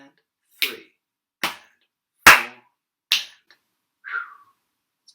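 Body percussion bar of chest hits, finger clicks and claps performed alone, five sharp, evenly spaced percussive hits with near, dry attacks, one landing slightly louder in the middle.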